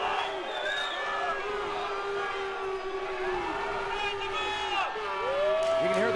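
An arena crowd at an amateur MMA fight cheers and whoops continuously during a rear naked choke near the end of round one, a loud, steady roar with rising shouts and whistles.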